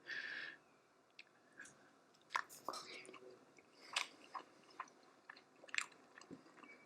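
Close, quiet chewing and crunching of beef pares with garlic rice, soft bites and mouth sounds scattered through the moment with no talk.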